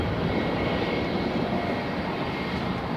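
Jetstar Airbus A320 at Melbourne Airport, a loud, constant roar of jet engines filling the whole stretch, dense and unbroken with no talking.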